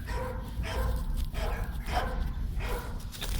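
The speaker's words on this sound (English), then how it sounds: "I apologize for the noisy dogs" Dogs bark in a few rough, repeated bursts spaced about half a second apart, moderately loud against a low, steady background hum.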